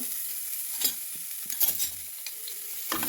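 Onions with garlic frying in a pan, a soft steady sizzle with a few light stirring scrapes, heard up close with no voices.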